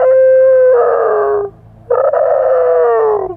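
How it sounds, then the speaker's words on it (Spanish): A dog howls and cries in two long, wavering wails separated by a short pause, loud and close, with no talk. "ven al perro que se llamaba Paco llorando"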